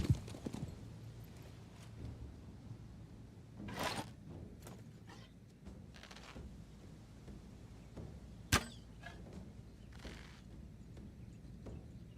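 Arrows whoosh and thud in sporadic bursts as they are shot at a horse in a video game, over a steady low rumble, with hoofbeats clopping faintly underneath.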